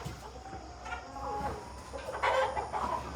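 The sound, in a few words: chickens clucking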